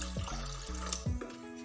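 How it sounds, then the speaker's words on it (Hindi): Water being poured into a semolina and yogurt batter for spongy sooji dhokla, a steady close splashing trickle that runs continuously through the short moment with no talk. "अब मैं इसमें पानी डालूंगी, सूजी है थोड़ा पानी ज़्यादा लगेगा इसमें।"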